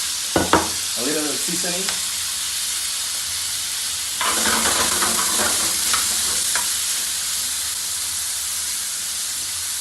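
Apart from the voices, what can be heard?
onion and yellow ají frying in a pan for lomo saltado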